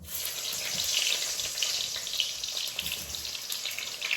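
Eggplant frying in hot olive oil, a continuous bright hiss and crackle that swells for a moment and then settles into an even sizzle.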